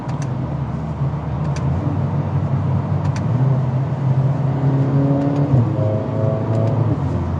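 A Mercedes-Benz CLA 45 AMG with a dual-clutch transmission drones steadily from inside the cabin, engine note shifting pitch as it changes gears, with faint clicks of the shifter paddles.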